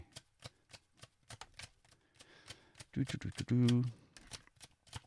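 Tarot cards are shuffled in rapid, crisp riffling clicks close by. A voice speaks briefly partway through.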